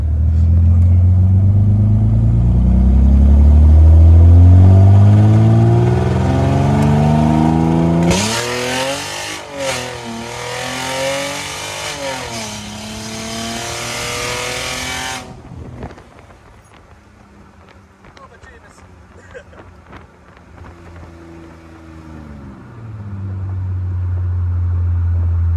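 Mercedes SLK fitted with nitrous accelerates hard with its rear tires spinning. The engine roars up in rising sweeps, then a harsher high-revving stretch follows before it cuts off and goes quiet. The engine rumbles back in near the end.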